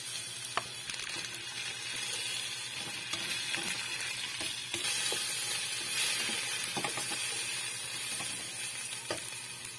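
Baguio beans fry with shrimp in a pan, a steady loud sizzle with scattered clicks and scrapes of stirring, close and continuous with no talking.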